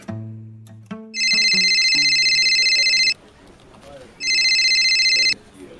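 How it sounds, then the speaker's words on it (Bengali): An incoming call sets off a phone's bright electronic ringtone in two loud, sustained bursts, after a brief voice at the start, with quiet pauses between. "দুপুর 2টোর লাঞ্চ ব্রেক হতেই সুরভির ফোন।"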